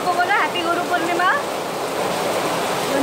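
Steady broadband hiss of rain falling outdoors, continuous and fairly loud throughout, with a few brief voiced sounds near the start.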